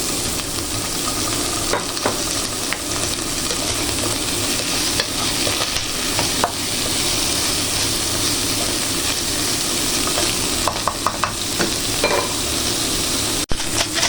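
Pork chops are stirred in tomato sauce in a frying pan, giving a steady, loud sizzle with soft scraping stirs and a few sharper clicks throughout.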